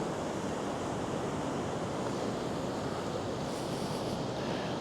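Steady broadband roar of sea surf at the Baltic coast where the small Užava river bends and flows into the sea, continuous and fairly loud with wind noise on the microphone, no voices.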